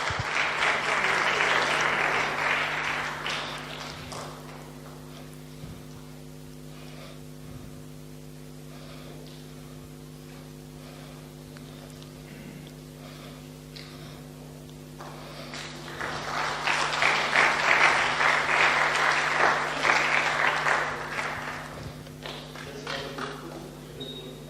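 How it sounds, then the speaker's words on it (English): Audience applause at a Toastmasters tall tales championship awards event, a strong round of clapping that fades into a quiet stretch with scattered taps and a steady hum, then a second loud swell of clapping. "Please give them a round of applause."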